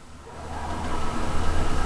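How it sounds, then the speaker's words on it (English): An LP-fueled Onan 6300 generator in a 1998 Teton Grand camper runs with a steady, broadband mechanical hum and drone that builds slightly louder, heard up close with no talking. "Generator does run."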